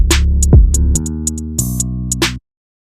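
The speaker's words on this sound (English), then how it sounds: "Then an open hat." An open hi-hat from an FL Studio beat remake rings in the treble over a loud full mix of deep bass and melodic synth, without talk.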